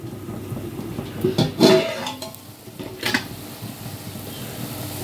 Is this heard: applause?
no